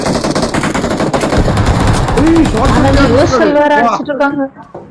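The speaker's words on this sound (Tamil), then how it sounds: "ஷார்ட் கன்லயே அடிச்சாங்க ஒரு அடி." Shotgun fire in a video game: loud, dense bursts of gunfire run almost continuously under excited spoken commentary, then fade out near the end.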